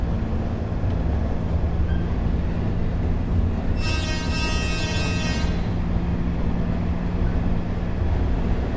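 A locomotive in a realistic train simulator game, a steady loud rumbling run with a sustained tonal horn-like blast lasting about two seconds in the middle.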